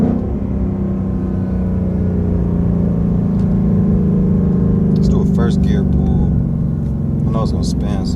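A Ford Mustang S650 with a manual clutch pulls hard in first gear, its engine rumble climbing steadily and loud throughout, with brief chirps or squeals and some voice sounds near the end.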